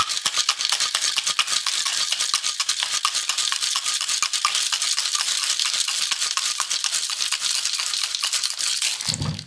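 Ice rattling hard inside a cocktail shaker, a rapid, steady, loud shaking that runs for several seconds without a break and stops near the end.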